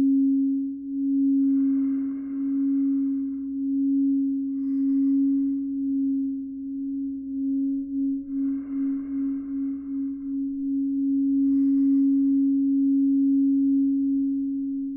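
Tibetan singing bowls ring with a sustained, steady drone, and softer struck tones bloom and fade over it at intervals, one swelling into a gentle pulsing beat partway through, calm and resonant in a sound-bath meditation setting.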